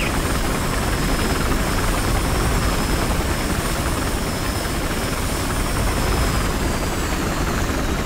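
A loud, steady helicopter rotor roar in the video game Battlefield Hardline, with a low chopping drone, continuous and close throughout, no voices.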